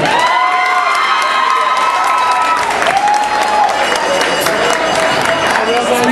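Audience at a drag show cheering, whooping and clapping together in a loud, dense crowd roar that holds steady throughout, with high shouts rising above the applause.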